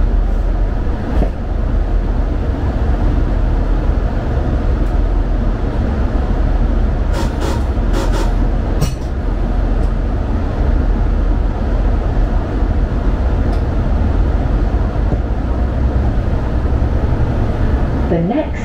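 Class 165 diesel unit 165126 running between Reading and Basingstoke, heard from inside as a steady loud rumbling drone of engine and wheels throughout, with a few brief clicks and knocks from the track.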